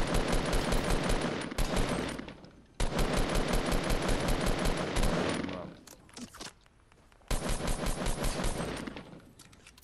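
Rapid automatic gunfire in a Fortnite match at Tilted Towers, long loud bursts with short gaps between them, brief pauses and a final burst, close and dense.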